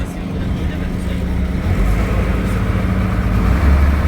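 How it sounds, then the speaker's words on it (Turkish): A loud, low boat engine roar rumbles steadily and swells slightly as a tour boat leaves harbor in Krabi, Thailand, with a voice faintly audible underneath the drone. "büyük bir gürültüyle limandan ayrılıyoruz"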